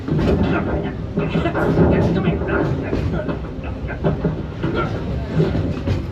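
A Walt Disney World Railroad train at Magic Kingdom Park, Florida, rumbles steadily with rhythmic clattering, loud and close, while a voice is mixed in.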